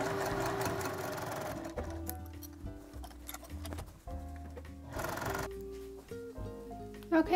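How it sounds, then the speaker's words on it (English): A sewing machine runs in steady bursts while stitching a tote bag, its rapid mechanical stitching chatter close and clear, pausing briefly between runs. "I'm gonna go to the sewing machine and get that all sewn up"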